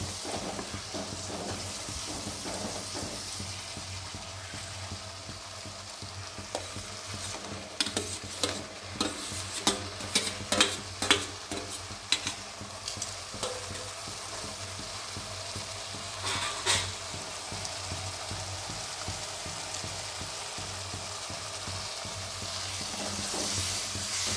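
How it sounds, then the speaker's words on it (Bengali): Spice paste sizzles steadily in a frying pan for a traditional Bengali banana-flower curry, with a spatula scraping and stirring in bursts of rhythmic strokes, close and continuous throughout. "মশলাটা এবার কষানো হয়ে এলো প্রায়"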